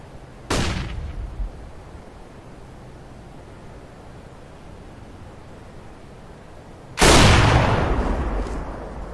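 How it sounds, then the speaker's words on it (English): A flashbang grenade detonates in a first-person shooter game, heard as two sharp loud bursts several seconds apart, each ringing out into a decaying noisy hiss over a faint background. "Deploying flashbang."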